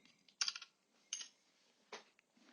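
Typing on a computer keyboard at a desk, three short clusters of key clicks separated by quiet pauses, close and clear with no talking.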